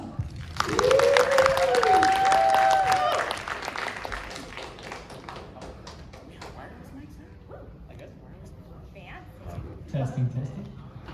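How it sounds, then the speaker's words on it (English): A crowd at a comics panel at a film premiere event bursts into loud applause with whistles and cheers. The applause fades after a few seconds into murmuring voices and scattered talk. "Give them a round of applause."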